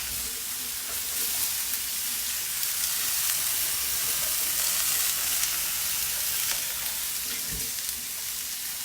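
Vegetables for an Asian stir-fry sizzling loudly in a hot pan, a dense, continuous hiss close up, with a brief knock as they are tossed near the end.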